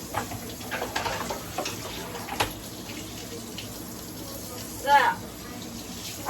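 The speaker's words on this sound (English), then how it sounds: "So after I wash my cutting board real quick here" A cutting board rinsed under a running kitchen tap while cooking dinner: a soft, continuous stream of water with light splashes and a brief louder gush near the end, with faint background sounds.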